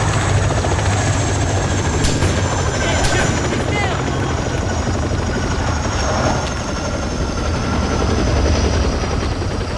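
A helicopter in the military video game ArmA: Cold War Rearmed thunders loudly and continuously, with a dense rotor and engine roar filling the whole stretch and a player speaking over it.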